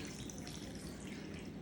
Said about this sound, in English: I start with the chicken broth. Just pour it in.